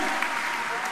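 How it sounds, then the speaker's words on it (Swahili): A church congregation claps in a dense burst of applause, with voices mixed in beneath. "Mungu jamani, pigieni makofi yanayoeleweka."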